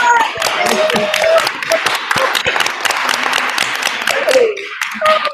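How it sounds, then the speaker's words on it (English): An audience claps steadily at the close of a mountain trail info night. Dense, continuous applause carries through, loud and close, while a few voices speak over it. "I love the clapping."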